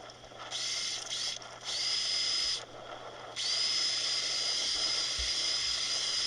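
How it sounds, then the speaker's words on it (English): A motorized ice drill whines in three bursts, pausing briefly between runs, with a steady high-pitched tone over a grinding hiss. "He's drilling holes in the ice."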